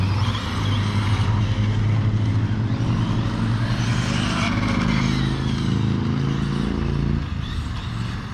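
An FTX Superforza 8S radio-controlled car with a 1400kv motor accelerates, its whining electric motor holding a loud, sustained buzzing pitch for several seconds before easing off near the end.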